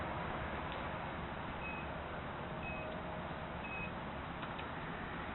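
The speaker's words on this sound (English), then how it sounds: "The alarm on the radio going off." Steady, fairly quiet electronic beeping comes from an Exceed Rocket Series 2215 740 KV RC car's radio transmitter alarm. A short high tone repeats about once a second over a continuous background hiss, and no one speaks.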